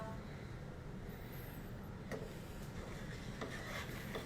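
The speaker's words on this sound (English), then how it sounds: "Kind of giving it a good stir." Spoon scraping and stirring through a thick, sticky mix of melted marshmallow and rainbow cereal in a bowl, a soft, quiet, continuous rasp with a few sharper scrapes.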